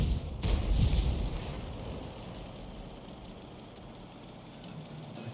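The gun of an AMX 13 F3 AM self-propelled artillery vehicle fires in a video game: a loud booming blast up front, then a long decaying rumble that fades to quiet background.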